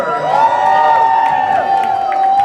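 A birthday party crowd claps and cheers for a trio of hosts, a dense, loud wash of applause and whoops close by, with a sustained voice riding over it.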